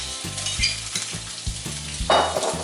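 Shrimp sizzle and spit loudly in a hot pan with garlic, with a steady frying hiss and occasional stirring scrapes.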